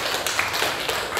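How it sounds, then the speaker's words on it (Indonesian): A brief burst of classroom clapping rings out for a student group after their presentation, a short dense patter of hands that fades quickly. "tepuk tangan buat kelompok 2"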